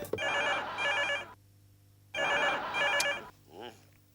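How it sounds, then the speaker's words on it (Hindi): Telephone ringing in two long electronic ring bursts separated by a pause, loud and close, with a brief chirp at the end and no talking. "इतनी देर से फोन लगा रहा हूँ लेकिन घंटी बजे को उठा नहीं रहा"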